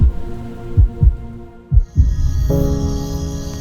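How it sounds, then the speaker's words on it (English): A heartbeat sound effect throbs in deep, loud thumps, a few spaced double beats, before a low sustained hum swells and takes over. "a pulse, a heartbeat"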